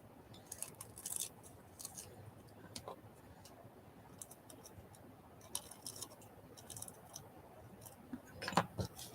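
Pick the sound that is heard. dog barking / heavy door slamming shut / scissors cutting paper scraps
scissors cutting paper scraps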